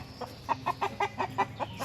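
Chickens cluck in a backyard chicken run, a quick series of about eight short, evenly paced clucks, close and clear over low outdoor background noise.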